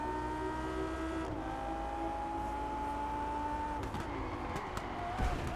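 A car engine hums and drones steadily while driving in the racing video game Test Drive Unlimited Solar Crown, with a faint pitch shift and a few clicks near the end, at moderate level.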